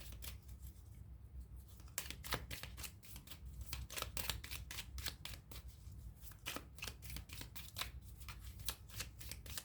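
Tarot cards being shuffled and drawn up close: soft riffling, then a series of crisp, irregular snaps and flicks of cards, quiet and alone with no talking.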